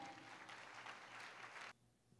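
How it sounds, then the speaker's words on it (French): A graduation ceremony audience applauds a slam poet in a steady wash of clapping, fairly loud and uniform for under two seconds before cutting off abruptly into near quiet. "Je vous demande de l'applaudir"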